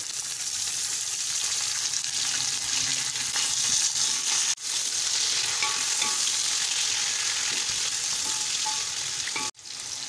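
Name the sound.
sliced tomatoes frying with chicken cubes in pot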